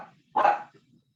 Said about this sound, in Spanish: hay un micrófono abierto por ahí que se oye un perro ladrando